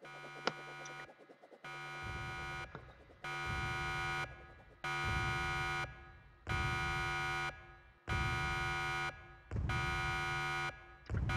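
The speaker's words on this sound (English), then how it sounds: "The alarm is very annoying." A Roblox game alarm blares in repeated harsh, buzzing tonal bursts of about a second each, separated by brief gaps, steady and insistent with no talk over it.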